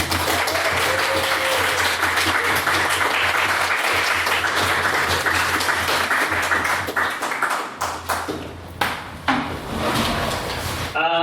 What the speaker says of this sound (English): Please get a second round of applause for was Miss Hobbs's maiden speech.